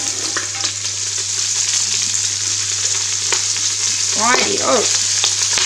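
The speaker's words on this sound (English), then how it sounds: "And now it's time to add my large bowl of cabbage." A large bowl of red cabbage goes into a hot pot with a bottom residue for sweet and sour red cabbage, setting off a loud, steady close sizzle with a few stirring knocks, and a voice speaks briefly near the end.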